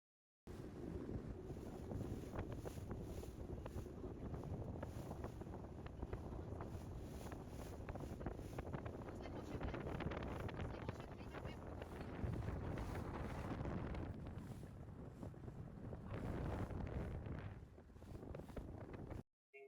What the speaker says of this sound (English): So a little cruise down the river.